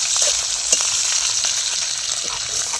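Chillies fry in hot oil with mustard seeds, giving a steady, close sizzle with scattered small crackles and a light clink of stirring, no talk.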